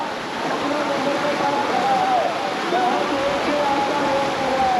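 Icy glacial meltwater river rushing along the Amarnath Yatra route, a steady broad roar of flowing water close by, with people talking over it.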